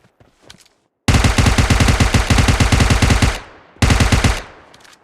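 Rapid automatic gunfire in a video game, two long bursts, loud and close, separated by a brief silence, with a few faint shots before.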